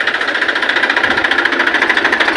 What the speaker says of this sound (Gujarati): ટ્રેક્ટર લઈને જાય છે